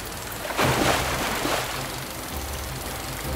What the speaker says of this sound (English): Oh, it's raining. I think that might be new. I don't remember rain.